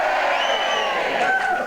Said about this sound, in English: Let us hear the cheers now.